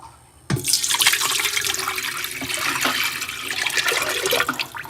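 Water pours into a VEVOR countertop water distiller, a loud, close, steady gushing splash that starts suddenly and runs continuously, with no voices over it.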